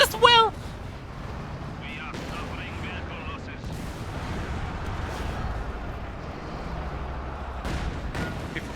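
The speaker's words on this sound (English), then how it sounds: "Low angle barrage is on the way." A low-angle artillery barrage in the strategy game Company of Heroes lands as a series of heavy booms and rumbling impacts, with scattered gunfire crackling under a steady battlefield din.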